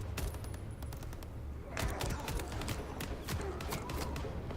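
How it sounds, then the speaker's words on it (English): Gunfire rattles through a combat scene in the video game Vampire: The Masquerade – Bloodlines 2, with dense bursts of rapid shots over a steady rumble, and the firing grows heavier and more continuous partway through. "Gunfire."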